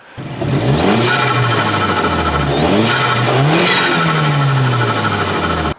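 An Audi B7 A4 with the 2-liter turbo engine revs in several rising pulls, each one dropping back with a turbo flutter. The sound is loud and close, with no talking.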